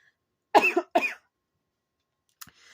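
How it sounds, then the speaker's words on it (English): A sick person coughs twice in quick succession, close and sharp, then gives a short throat catch a moment later against otherwise near-silence. "I still have a really bad cough every once in a while."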